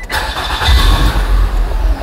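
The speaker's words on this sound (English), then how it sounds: "Now start the car." A Nissan Altima engine cranks and catches, then settles into a loud, close, rumbling idle for the rest of the two seconds.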